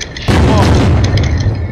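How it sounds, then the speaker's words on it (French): Gunfire and explosive booms from the multiplayer survival game Unturned during a Halloween purge event with a tank, a loud dense burst of blasts that starts abruptly and rolls on continuously, with players' voices mixed underneath. "On tire dessus, les gars."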